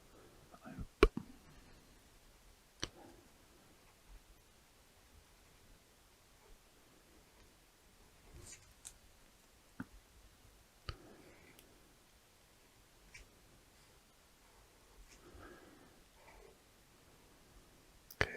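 Pens from a Bug's Life tin sketch quickly on paper in a quiet room: faint scratchy strokes and soft rustling, punctuated by sharp clicks and taps spread through the quiet.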